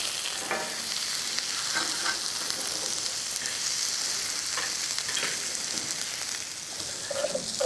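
Eggplant fries in a pan with a steady hiss and sizzle while a utensil stirs it in scattered scraping bursts, close up and without speech.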